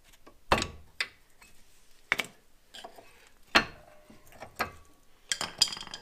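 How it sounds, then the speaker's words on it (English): Brake pads being pulled from the caliper bracket of a 1999 Subaru Impreza 2.5RS disc brake: several separate sharp metallic clicks and clanks, close by and spaced irregularly with quiet gaps between them. "Now remove the brake pads."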